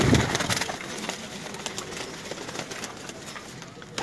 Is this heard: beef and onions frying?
no